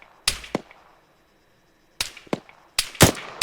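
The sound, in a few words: gunfire in the Arma 3 video game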